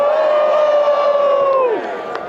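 A holiday festival crowd in a downtown street lets out a sustained cheer and whoop, loud and close, with a high voice trailing off after about two seconds.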